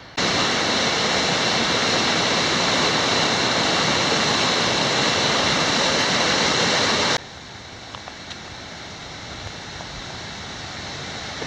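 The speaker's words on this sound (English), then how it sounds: "Now this is Gable Creek." Gable Creek rushing through the eastern Sierra Nevada mountains, a loud dense broadband roar of water that abruptly drops to a much quieter, more distant flow partway through.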